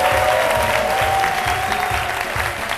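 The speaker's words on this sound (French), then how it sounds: "que je vous demande d'applaudir" A studio audience at a midday Ivorian television show applauds loudly and continuously, a dense wash of close clapping that holds steady for a few seconds, with faint tonal music underneath.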